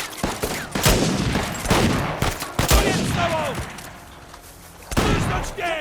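Sniper rifle shots ring out in the action game Uncharted, several sharp loud cracks spread irregularly over a few seconds amid other combat noise.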